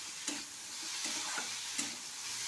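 Semolina (suji) frying in a pan for a spicy suji dish, giving a steady soft sizzle with a few light scraping stirs, close and continuous, no voices.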